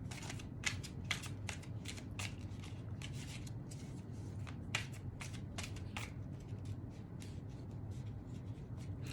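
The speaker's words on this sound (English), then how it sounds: "So I'll put them back and shuffle some more." A deck of cards is shuffled repeatedly at close range, giving a run of crisp riffling and flicking bursts over a steady low room hum, with no talking.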